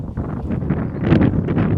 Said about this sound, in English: it's a bit windy today and the camera's moving